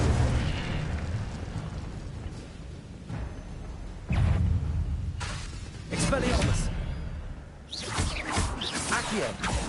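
Incendio fire spells cast in Hogwarts Legacy burst out as sharp whooshing blasts, several in irregular succession and mixed with other spell effects, loud and close.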